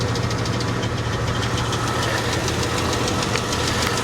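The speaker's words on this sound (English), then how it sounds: "Is that a misfire? Hold on. Yeah, she's got a misfire." An idling car engine with a misfire, a six-cylinder with two spark plugs per cylinder, running steadily with a rough, uneven knocking pulse, close and continuous with no talking.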